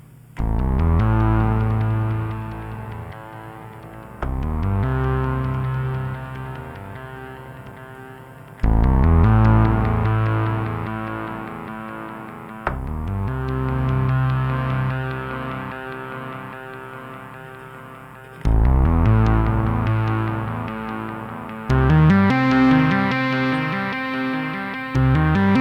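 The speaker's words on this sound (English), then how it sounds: "So let's have the spring reverb." Synth played through a Boss RE-202 Space Echo set to spring reverb, sounding as a series of sustained chords and notes, each swelling then fading into a lingering reverberant tail, with no voices.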